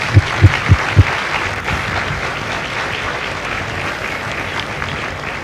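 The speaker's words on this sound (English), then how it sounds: "So would you all please join me in a round of applause for the families of Lima Company." Crowd applause for the families of a Lima Company Marine recruit graduation at MCRD San Diego, a steady broad wash of clapping from a large outdoor audience, with a few louder low thumps at the start.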